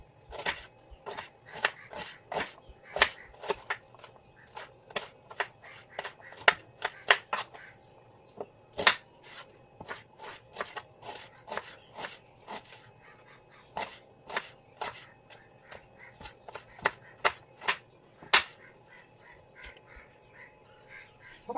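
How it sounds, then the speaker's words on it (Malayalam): A knife chops onion on a board at close range, crisp sharp strokes in irregular bursts and steady runs, repeated many times without talk. "നമുക്ക് സവാള അരിയാം."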